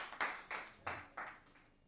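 Brief bursts of audience clapping at a road safety breakfast show, four or five short rising swells spaced about a third of a second apart, fairly faint and fading toward the end with no talk over them.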